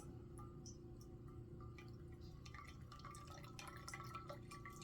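Water is slowly poured from a jug over ground coffee in a pour-over dripper, giving a faint, steady trickle and drip with small splashy spatters against a low background hum.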